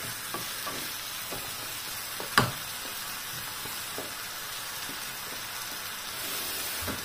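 Lamb curry sizzles and fries in a pan at a steady, close hiss, with a few soft stirring scrapes and one sharp clink of a utensil partway through.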